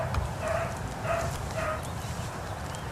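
Hunting dogs baying while running rabbits in the field, three bursts of distant barking rising over a steady outdoor background.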